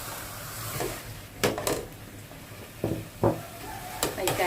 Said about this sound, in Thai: มาคั่วกับพริกแกงนะคะ